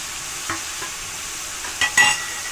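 Green chillies and crushed onion frying in a pan, a soft continuous sizzle with a few stirring scrapes and clinks near the end.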